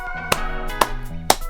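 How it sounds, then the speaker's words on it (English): Three sharp hand claps, evenly spaced about half a second apart, close and distinct over a steady musical backing. "That I am clapping, by the way."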